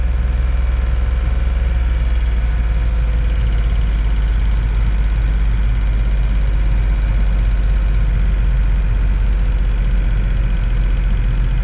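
A 2012 Smart fortwo's small three-cylinder engine idles steadily and loudly up close, a constant low throbbing drone with no revving and no talk.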